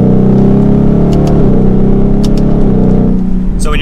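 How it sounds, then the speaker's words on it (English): A 2022 Ford Mustang GT Premium coupe accelerates hard with a loud, close engine roar through quick gear shifts, the pitch climbing and settling with each change. "So when you're on the gas, it's really quick the way it shifts and everything like that."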